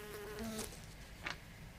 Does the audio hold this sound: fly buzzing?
yes